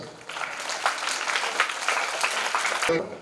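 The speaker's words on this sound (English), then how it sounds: "Big round of applause" Students and guests at a school sports and literary day clap together in a short, fairly dense burst of applause that swells and then stops abruptly near the end.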